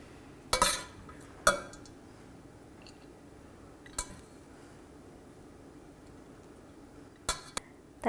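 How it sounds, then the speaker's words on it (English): A fork mixes nutty couscous ingredients in a dish, giving a few sharp metallic clinks and scrapes scattered over a soft, quiet background, with short gaps of near silence between them. "use the fork and mix those ingredients through"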